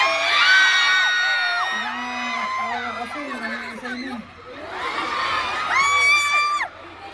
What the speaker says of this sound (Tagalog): Lakas ng mga sigawan nito.